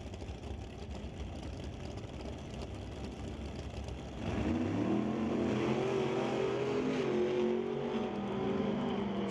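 A drag racing car at a Doorwarz event sits idling low and rough, then launches hard off the line after about four seconds, its engine roaring loud and rising steadily in pitch as it pulls away.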